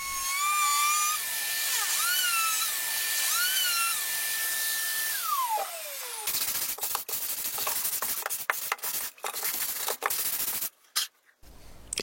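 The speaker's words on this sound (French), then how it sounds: "de bien ajuster le passage de la défonceuse et ça se fait tout seul" A wood router cuts a groove in wood while a sideboard is being built: a loud, steady high motor whine that swoops in pitch, then breaks into harsher, choppy cutting noise with short gaps near the end, with no talking.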